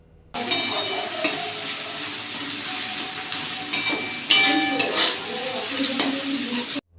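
Potatoes, carrots, chopped onion and chilli fry in a pan while being stirred; a steady sizzle runs throughout, broken by repeated scraping and clinking of a utensil against the pan, close up with no talking.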